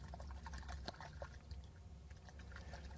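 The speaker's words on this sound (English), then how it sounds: "I have a can of water here to help me remove the soil particles that are clinging to the root system" Water poured from a can over a young plant's roots to rinse away clinging soil, a faint, close trickle with small drips and wet splashes, quiet and without talking.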